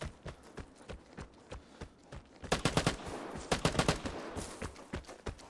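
Rapid bursts of gunfire in the shooter game Vigor, a pistol-like rattle that thickens into heavier fast volleys midway, loud and close, with no talking.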